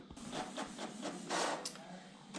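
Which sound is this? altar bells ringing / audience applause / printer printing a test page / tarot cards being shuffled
printer printing a test page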